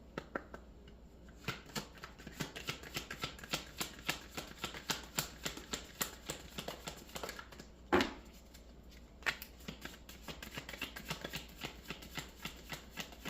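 Cards in a deck are shuffled and cut, giving a quick run of crisp, riffling flicks and taps, close and quiet, with a sharper snap near the middle and no talking.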